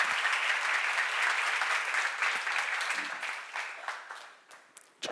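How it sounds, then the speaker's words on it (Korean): An audience at a church seminar applauds, with steady dense clapping that gradually thins out and fades, leaving a few last scattered claps. "박수 하세요."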